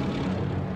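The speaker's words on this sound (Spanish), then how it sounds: "Aviones." A steady engine drone of propeller aircraft overhead, a continuous low rumble without variation.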